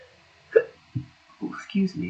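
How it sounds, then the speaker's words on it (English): One short hiccup pops out sharply, with quiet speech-like sounds following it. "I got the hiccups now"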